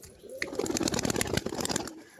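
A pigeon coos in short throaty bursts close by, a brief rolling sequence of soft calls with a faint background hum.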